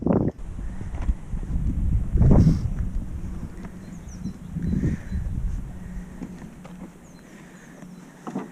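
Strong wind gusts through snow beside a moored boat, buffeting the microphone with a heavy, uneven low rumble that swells and fades over several seconds, with no voices.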